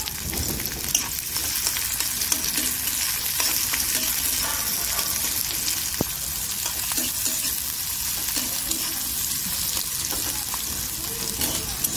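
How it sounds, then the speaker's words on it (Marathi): Onion and garlic sautéing in a pan make a continuous crackling sizzle with frequent stirring scrapes, close and steady throughout, and no one speaks. "कांदा पण छान असा गुलाबी रंगावरती परतून घ्यायचा आहे।"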